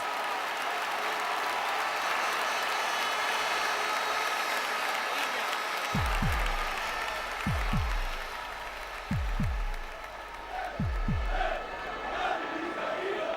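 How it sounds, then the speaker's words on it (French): A Barcelona football stadium crowd roars and applauds on its feet after a goal, a dense, distant wash of cheering with repeated deep drum-like thumps. "le stade applaudit, debout"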